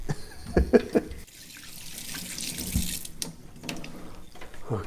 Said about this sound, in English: So I'm going to actually first wash my hands because I was just touching bacon.